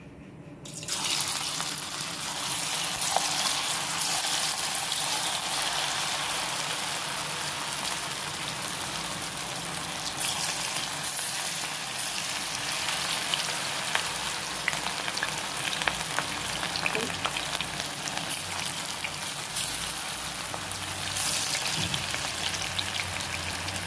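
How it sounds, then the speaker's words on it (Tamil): Pieces of batter fry in hot oil for roadside kaalan, a steady crackling sizzle that continues evenly and fairly close for the whole stretch, without talking. "நம்ம ஒவ்வொரு கொஞ்சம் கொஞ்சமாக எடுத்து எண்ணெயில் விடுவோம்."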